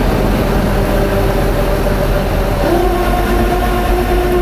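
Bourgault 7000 air seeder metering shafts whirring steadily with a loud mechanical drone, a faint tonal whine stepping up in pitch partway through as the shaft speed ramps, no voices.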